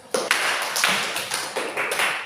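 A classroom of students claps in short, rhythmic bursts, about half a dozen sharp, close-sounding pulses of applause in quick succession.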